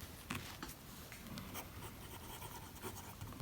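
Click Neo Tulip fountain pen writing on paper: soft, close scratching strokes in short bursts, quiet and continuous with no voices.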